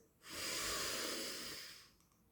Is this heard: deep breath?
yes